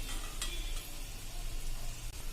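Farsi puri fries in moderately hot oil over a medium flame with a soft, steady sizzle. The bubbling stays quiet and even throughout, with no talking over it.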